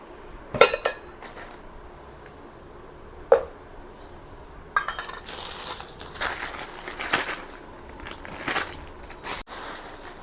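Glass or plastic storage jars, a Diwali gift, handled on a kitchen shelf, giving scattered clinks and knocks with some crinkling and rustling between them, close and moderately loud.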